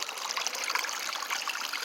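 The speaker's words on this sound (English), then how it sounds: "I just let out some water from the waterfall apparently" Water drains out of a small stream near a waterfall outdoors. It makes a continuous close, bright trickling and gurgling rush at a steady level, with no voices.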